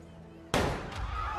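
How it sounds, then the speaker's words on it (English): A single sharp gunshot cracks out loudly after a quiet moment, its echo ringing on briefly over a dim background. "We got gunfire."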